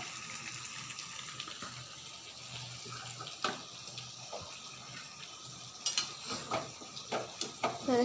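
Steady sizzling of meat and potatoes being sautéed in a pan for a curry-style dish, with a continuous frying hiss, occasional stirring scrapes, and a few louder clinks toward the end.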